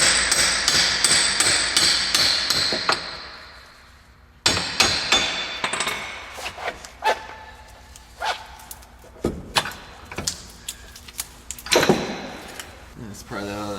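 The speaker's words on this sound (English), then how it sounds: "Tap the axle through." Sharp metallic hammer blows tapping an axle through on a 2002 Ford Focus during clutch replacement ring out in a quick rhythmic series, pause, then resume as irregular heavier strikes with clanking tools nearby.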